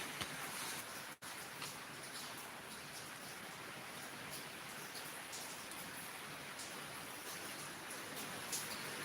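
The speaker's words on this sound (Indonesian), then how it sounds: "Lagi hujan." Steady rain falls heavily and evenly on surfaces outdoors at the Losari beachfront, a dense continuous hiss with faint scattered drips and no voices.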